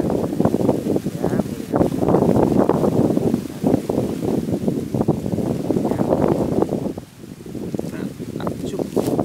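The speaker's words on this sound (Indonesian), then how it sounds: "Ini kencang bro, anginnya bro, mau terbuang topi saya" Strong gusts of wind roar steadily and loudly against the microphone outdoors in daytime, with rumbling buffeting that dips briefly before surging again.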